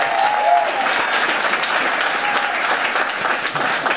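Sustained audience applause fills a city commission meeting room, a dense, steady clatter of many hands clapping at close range with no break for the full duration.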